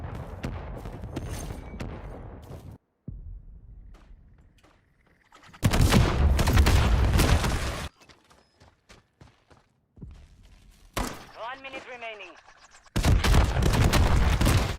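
Gunfire in Modern Warfare III Invasion mode, with long loud bursts of rapid automatic shots and some booming blasts between quieter gaps.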